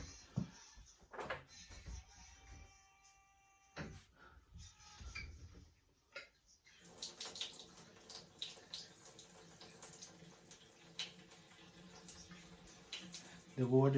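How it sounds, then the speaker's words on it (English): A weak trickle of water runs from a shower during a hair wash at home, with low pressure from a leaking outside pipe; faint, uneven splashing and dripping continue close by with rustling and handling noises. "The water's barely coming out."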